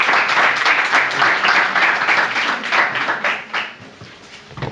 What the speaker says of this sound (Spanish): Quisiera que viniéramos con un aplauso a Benjamino Portot.